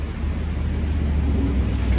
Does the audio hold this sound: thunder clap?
yes